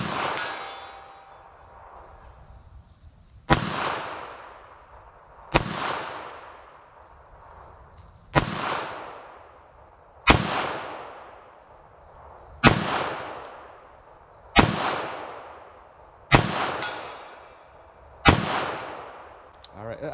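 Nine sharp .380 ACP pistol shots at a target crack out at a slow, steady pace, each loud report followed by a ringing metallic decay, with near silence between them.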